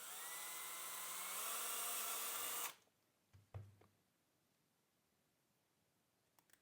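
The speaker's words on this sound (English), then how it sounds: "I'm drilling my first one." A steady high-pitched power drill whine runs for a couple of seconds while drilling a battery interface box, then cuts off, followed by a few faint clicks and knocks in a quiet room.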